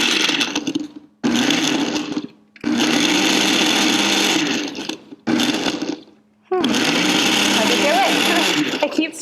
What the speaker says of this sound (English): just everything into the blender, and then let's see how this goes.